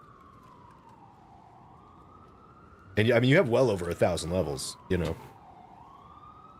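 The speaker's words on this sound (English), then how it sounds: "sorry if you guys are hearing some like sirens and stuff. That's just coming in through the window of this apartment that I'm in right now." Emergency vehicle sirens drift in through an apartment window, a faint steady wail under a voice, which talks briefly over it.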